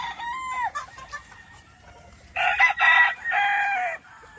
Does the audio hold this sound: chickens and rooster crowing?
yes